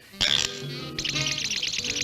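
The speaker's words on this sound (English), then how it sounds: "It's a mechanical homing pigeon that lays golden palms. I simply press this button," A mechanical homing pigeon in a 1960s cartoon is launched at the press of a button, giving a sharp bright chirp followed by a run of quick fluttering, twittering whistles.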